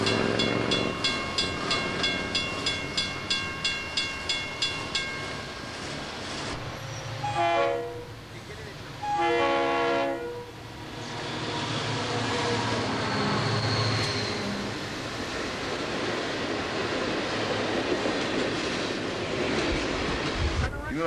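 A train rumbles past with a rhythmic clatter of wheels over rail joints, followed by blasts of its horn and then a long, steady roar. Voices can be heard faintly underneath.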